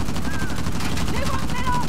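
Rapid gunfire in Uncharted: The Lost Legacy, a loud, continuous stream of closely spaced shots, with a voice partly mixed in.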